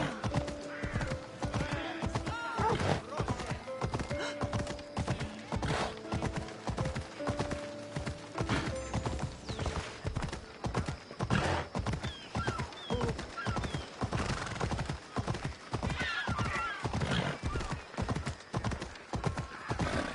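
A horse in Assassin's Creed Odyssey gallops in a fast, steady clip-clop rhythm that runs throughout, with neighs and whinnies breaking through now and then over a busy game soundscape.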